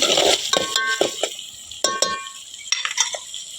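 Onions frying for a spicy mutton curry over a wood-fired stove, a metal spoon clinking and scraping against the pan in short, close bursts with a faint sizzle underneath.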